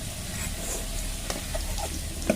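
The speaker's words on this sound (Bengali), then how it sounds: "আলুগুলো ভেজে নেবে লাল লাল করে। আলুগুলো প্রায় ভাজা হয়ে এসছে।" Potatoes frying in hot oil for a country chicken curry, browning until reddish: a steady close sizzle with soft crackles and a few stirring clinks, with no talking.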